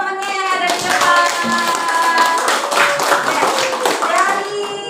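Classroom clapping for students who presented at the front, a steady patter of many hands lasting the whole stretch, with children's voices and tonal speech-like sounds mixed in.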